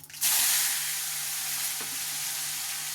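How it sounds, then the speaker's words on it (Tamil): Peeled country tomatoes dropped into hot oil tempered with mustard seeds and asafoetida, a sudden loud burst of sizzling that settles into a steady close hiss, with no voices. "பெருங்காயம் தாளிச்சிட்டு இந்த உரித்து வச்சுருந்த தக்காளி பழத்தை எல்லாத்தையும் அதில் எடுத்து போட்டுக்கலாம்."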